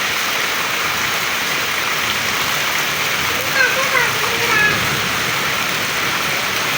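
Steady heavy rain pours down at Cox's Bazar as a father and his children enjoy the downpour, a continuous close hiss with brief voices breaking through partway.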